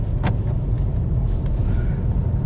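A 2021 Mercedes-Benz C63S AMG with its V8, driven in comfort mode, gives a steady low engine and road rumble throughout, with no talking.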